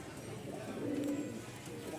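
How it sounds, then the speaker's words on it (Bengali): A flying tumbler pigeon gives a soft, low coo, faint and close, against a steady background hum with no other sounds standing out. "উড়নবাজি খুব ভালো একটা কবুতর"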